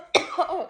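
A single short, sharp cough from a person reading aloud, close and clear, with a brief rough tail after the burst.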